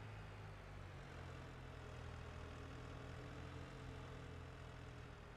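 A tractor engine idles with a steady, low rumble and an even, unbroken drone, faint and continuous with no voices over it.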